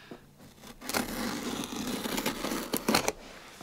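Scissors slice through the sealing tape on a craft supply box, heard as faint crinkling, tearing and scraping in short bursts, with a couple of sharp snips near the end.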